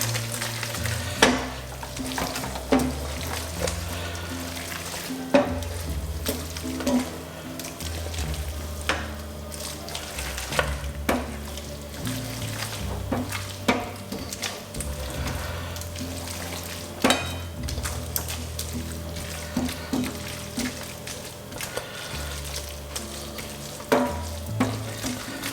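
Spaghetti carbonara tossed with egg and grated cheese in a pan, with repeated scraping and stirring clicks over a soft, steady sizzle and a low background hum running throughout.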